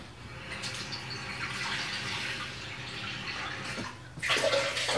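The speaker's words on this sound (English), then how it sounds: "All you need to do is just put in 2 cups of water." Water runs steadily into a medium pot on a stove for a vegetable dish with rice and soup, a continuous close pour that cuts off near the end before a brief clatter.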